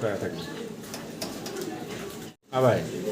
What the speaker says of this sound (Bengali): আমরা সাদা এক জোড়া কবুতর দেখতে পারতেছি